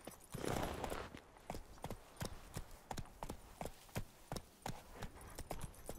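Horse hooves trot in a steady clip-clop through a town in The Witcher 3: Wild Hunt, Blood and Wine, evenly spaced and fairly near, with no voices over them.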